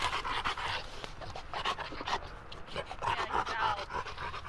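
An iguana hunting dog pants in rapid, steady breaths, loud and close throughout with no talking.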